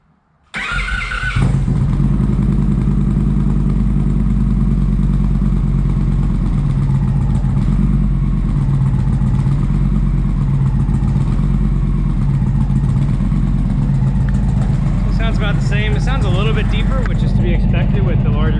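An Indian Challenger motorcycle fitted with a new slash-cut Toce exhaust fires up after a brief quiet moment, then settles into a loud, steady, close idle rumble with a faint rhythmic clatter.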